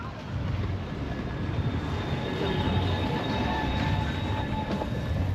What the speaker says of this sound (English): There's a tram.